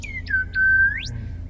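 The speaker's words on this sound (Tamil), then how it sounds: "இந்த ஒரு ஃப்ளூட் சவுண்ட் இங்க கேட்கும் பாருங்க" Flute-like melodic tone played through a car's 3-way passive audio setup with no subwoofer, a few short pitched notes then a long sustained note rising at the end, clear over a low steady hum.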